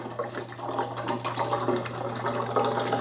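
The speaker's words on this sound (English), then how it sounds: "Now I'm gonna take this empty container and fill it up with water and dump it in there." Fresh water poured from a bottle into the reservoir of a Keurig K-Supreme Plus Smart coffee maker during descaling, a steady splashing, gurgling pour lasting a few seconds, close and alone.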